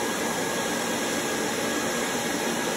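An Antminer L3+ ASIC miner for Dogecoin and Litecoin runs loudly nearby, its cooling fans giving off a steady, unbroken roar and hiss that fills the whole stretch without pause.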